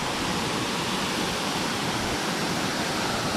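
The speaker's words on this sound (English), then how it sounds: "The fifth waterfall, Sgwd Einion Gam." The Sgwd Einion Gam waterfall in the Brecon Beacons, Wales, roars steadily nearby, a dense, even rush of falling water with no other sounds.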